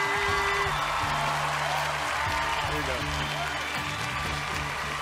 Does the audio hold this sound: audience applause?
yes